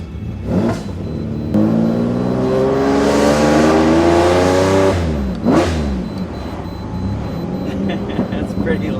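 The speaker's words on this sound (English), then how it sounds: "That's pretty loud. Is this a custom exhaust? Yeah, no, it's a Quicksilver." A Lexus LFA fitted with a Quicksilver exhaust revs hard, its loud engine note rising and climbing for several seconds before cutting off, then flaring briefly again, heard close by.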